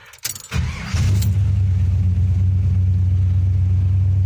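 A 1973 Checker Natick cab's engine cranks after a few key clicks, catches within about a second, and settles into a loud, steady, rumbling idle close by.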